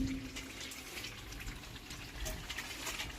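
Water poured into a cooking pot while biryani is being made at home, a steady close gushing stream with a faint background hum.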